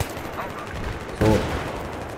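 Gunfire from the hip in the video game Battlefield 3, a short loud burst of shots standing out briefly against steady background noise.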